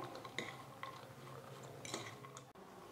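Chopped salad vegetables, carrot and capsicum with vinegar, salt and black pepper, being mixed in a bowl, heard as faint, close soft clinks and scrapes in an irregular rhythm.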